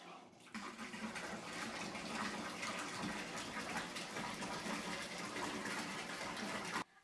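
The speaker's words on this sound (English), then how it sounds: "So I'm going to fill up my tub the rest of the way and hop on in here" Tap water pouring into a bathtub, a steady loud gushing rush that starts abruptly and runs without pause, then cuts off at the end.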